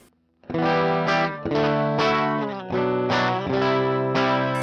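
Electric guitar through a Westminster Effects Augsburg amp sim with no bass, full mids and a little treble, giving a Fender-like tone; five strummed chords ring out one after another, loud and near, with no speech.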